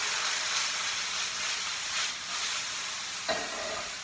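Shallots, thyme and spring vegetables sizzle and hiss steadily in a pan, a continuous close frying sound with a brief stir or clink near the end and no talking.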